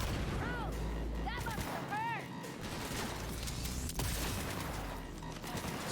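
Gunfire in the video game Cyberpunk 2077, a run of sharp shots and bursts amid combat noise, with whooping electronic sweeps in the first seconds and a steady rumble beneath.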